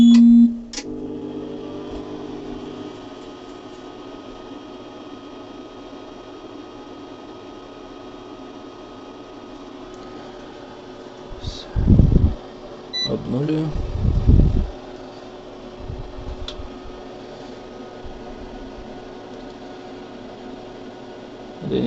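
A UPS inverter running on a 3.6 kWh LiFePO4 battery starts up with a short beep, then settles into a steady, faint electrical hum, with a few low thumps and clunks partway through.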